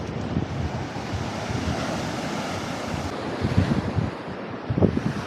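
Strong wind buffets the microphone in low rumbling gusts over a steady outdoor wash, with rougher bursts toward the end.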